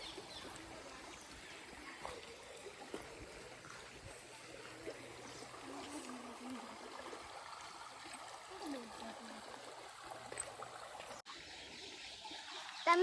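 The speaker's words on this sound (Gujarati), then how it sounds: "તમે જોઈ રહી શક્યા છો કે અહીંયા ઝરણું વહી રહી છે" Forest stream running below Kedareshvar temple in the Mahisagar hills, a soft, steady trickle and gurgle of water heard quietly and continuously with no voices.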